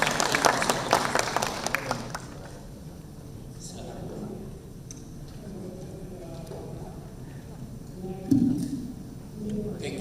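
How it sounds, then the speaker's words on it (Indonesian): Audience applause welcoming a speaker at a marketing conference session in a hotel ballroom, a burst of clapping at the start that fades into room murmur and talking. "Kita sambut dan kita beri tepuk tangan meriah untuk Bapak Indra Yuniarto."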